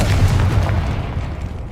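A Confringo spell explodes in Hogwarts Legacy with a single loud, deep blast and rumble that slowly fades over a second or so, heard up close with no talk.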